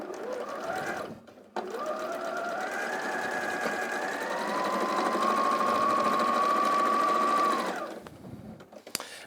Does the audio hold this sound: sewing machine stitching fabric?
yes